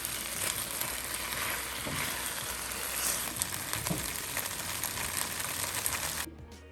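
Gobi Manchurian sizzles and fries steadily in a pan while it is stirred, with a loud, continuous crackle and scraping throughout that cuts off abruptly at the very end.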